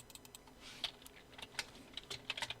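Light keystrokes on a computer keyboard as a short line of text is typed during an Illustrator lesson, scattered quiet clicks in uneven bursts with no talking.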